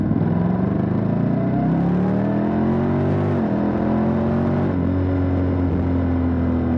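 A Honda X-ADV 750 scooter-style adventure motorcycle accelerates under way, its engine drone climbing steadily in pitch through the gears with a brief dip at a shift, loud and close, with wind rush and no talking.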